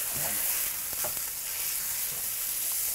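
Hamburger patties sizzle in a pan on a stovetop with a steady crackling hiss and a few sharp pops. The sound continues alone, with no talking.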